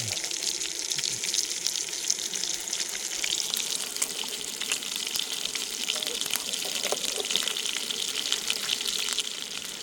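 Burgers and chips fry in a pan at a coastal wild camp, giving a close, dense, steady sizzle and crackle that runs unbroken for ten seconds.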